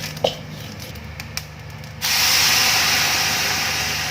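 Blended spice paste for rendang, made with water, poured into a hot pan with toasted coconut, giving a sudden loud, steady sizzle that follows a few quiet clicks and clatters.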